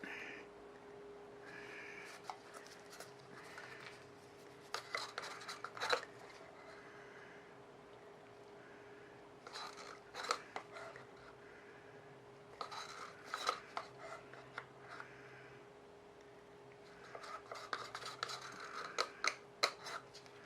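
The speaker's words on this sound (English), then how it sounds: "We're going to be scraping the bucket here." Leftover resin is scraped from a bucket with a tool for resin jewellery making, giving quiet, intermittent bursts of rasping and scratching separated by near-silent pauses.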